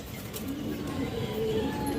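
Racing pigeons cooing softly in a loft, low murmuring coos against a steady background hum, faint and close.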